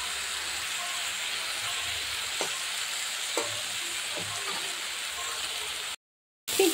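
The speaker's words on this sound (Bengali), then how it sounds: "আমি কিন্তু এইভাবেই নাড়তে থাকবো ক্রমাগত।" Gima shak greens frying in a pan while being stirred, giving a steady close sizzle with a few soft scrapes, then a brief cut to silence and a final burst of frying.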